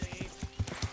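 Horse hooves clop in Kingdom Come: Deliverance, a quick, even rhythm of about eight close, muffled hoofbeats over a short gallop, heard alone.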